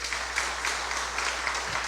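A church congregation claps together in a steady, even patter that carries through the hall, with no voices rising above it.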